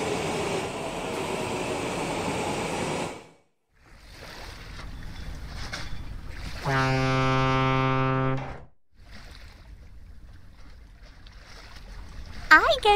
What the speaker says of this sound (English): I go to the zoo by ferry.